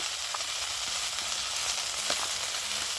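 Okra and mango sautéing in a pan, giving off a dense, even hiss of frying with faint stirring taps, close up and without any voices.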